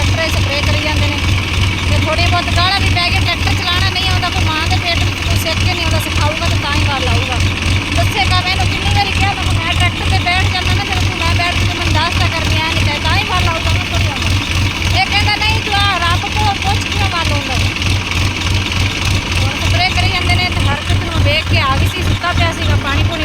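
A tractor engine runs steadily and loudly up close while a field is sprayed, a continuous rhythmic diesel throb with faint voices underneath.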